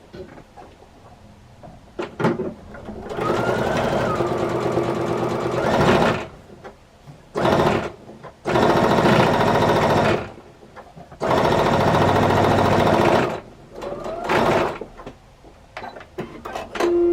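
A sewing machine with a standard foot stitches fabric for a quilted tote bag in loud, steady whirring runs of a few seconds each, stopping and restarting several times, with quiet handling noises in the pauses.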